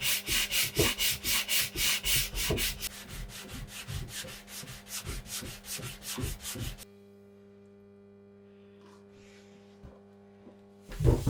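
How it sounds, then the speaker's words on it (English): Rhythmic back-and-forth strokes of sandpaper rubbing the veneered edges of a vintage vanity by hand, steady and close for several seconds, then quiet with a few faint scuffs. "putting the sandpaper on there and then sanding by hand all around those edges"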